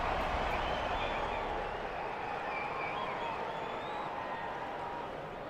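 A dense stadium crowd in a rugby video game roars and cheers continuously at a steady, moderately distant level, a broad wash of massed voices without a break.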